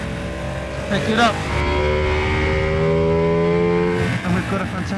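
A 2020 Ducati Panigale V2 sports bike accelerates hard, its engine note climbing sharply, then holding a high, loud whine before a quick shift and drop near the end.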